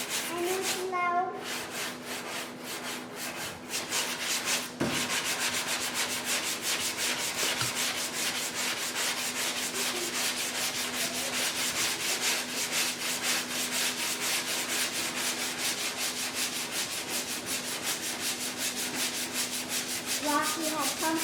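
Steady, continuous abrasive rubbing of a sanding block over a guide-coated panel, loud and close, running without pause after a brief clatter at the start.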